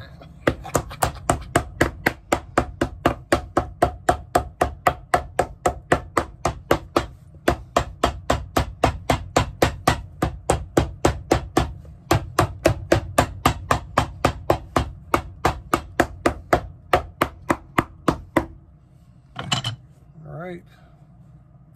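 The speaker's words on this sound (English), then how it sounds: "I guess we can say it's a little hammer time." A small hammer strikes a leather midsole on a Florsheim shoe under restoration, with dozens of rapid, evenly spaced loud knocks in a steady rhythm and a couple of brief pauses. A short sound follows at the end.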